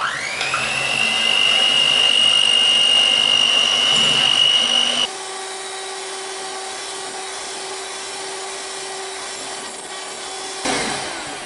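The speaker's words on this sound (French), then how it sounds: "on monte les blancs en neige, nos 3 blancs. On démarre à petite vitesse" An electric mixer whips three plain egg whites, its motor whining at a steady pitch, rising slightly as it speeds up, then shifting to a lower, quieter hum midway; a voice is briefly heard.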